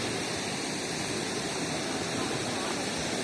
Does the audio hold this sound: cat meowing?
no